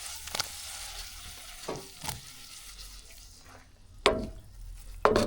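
Tomatoes sizzling as they cook down in a pan over an outdoor fire, a soft steady crackle and hiss punctuated by a few sharp clacks of utensils against the pan.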